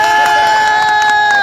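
A crowd at an indoor gathering claps rapidly and cheers, a dense, loud patter of hands over a steady sustained tone, brief and continuous.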